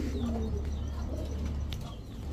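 Giribaz high-flyer pigeons coo softly at a pigeon sale, with a few low, faint burbling calls over quiet background hiss.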